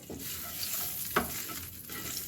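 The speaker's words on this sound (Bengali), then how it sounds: "আমি ওই তেলের মধ্যে একটু জিরে ফোড়ন দিলাম আর দুটো শুকনো লঙ্কা দিলাম" Cumin seeds and two dried red chillies sizzle and fry in hot oil for a stuffed dum aloo dish, a steady crackling hiss with a few spoon-stirring scrapes, close and alone without voices.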